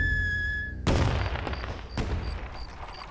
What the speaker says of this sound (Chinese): 荒郊野外的，哪来的烟花啊？